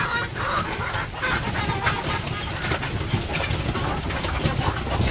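Village chickens cluck softly around a water container in a rural Bangladeshi yard, a dense, continuous murmur of fowl calls under steady background noise, moderately close with no talk.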